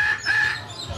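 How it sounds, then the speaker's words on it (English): Birds calling outdoors during a dinner, heard as a short, loud, shrill rooster-like squawk close by, over a low background murmur. "Birds are still being noisy."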